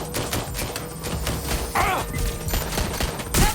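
Rapid bursts of gunfire in Watch Dogs: Legion crackle throughout, with heavy thumps and a sharp whooshing effect midway, loud and dense.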